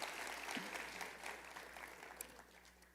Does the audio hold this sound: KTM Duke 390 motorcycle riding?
no